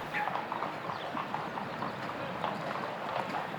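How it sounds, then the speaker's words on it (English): Hooves of a show jumper trot steadily across an international show jumping ring, a continuous rhythmic clip-clop heard at close to middle distance with no talk over it. "Next in the ring for Italy, Silvia Bazzani, and she's riding Jack Daniels van Etzeveld."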